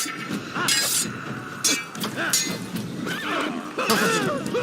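Horses whinny and neigh repeatedly in the Assassin's Creed video game, several sharp high calls spread across a few seconds over hoofbeats and ambient game noise, with a voice speaking in between.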